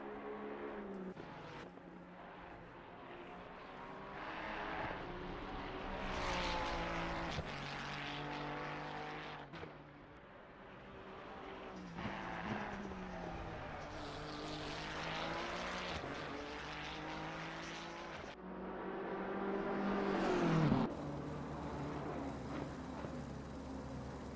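BMW GT race car in Assetto Corsa Competizione lapping Imola, heard from the passenger seat: a loud, steady engine drone with rising and falling pitch through gear changes and revs, continuous throughout without talk.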